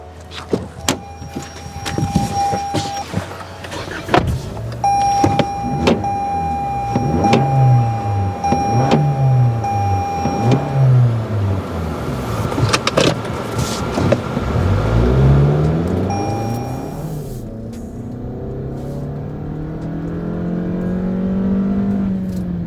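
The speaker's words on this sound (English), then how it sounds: "let's take the 2020 Camry XSE 4-cylinder for a spin" A 2020 Toyota Camry XSE with a 4-cylinder engine is driven, with repeated rising and falling engine sweeps as it accelerates through gears, plus a steady whine and road noise, heard from nearby with no talking.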